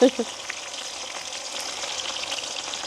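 Garlic frying in hot oil for a village-style chicken sambal, a sharp clatter as it drops in and then a steady, close, bright sizzle that holds on without pause.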